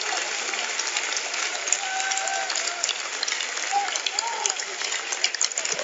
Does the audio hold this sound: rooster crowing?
no